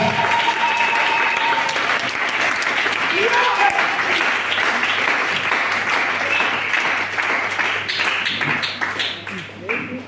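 A church congregation claps and cheers at a morning service, dense sustained applause with scattered shouts filling the room for the full length, thinning slightly toward the end.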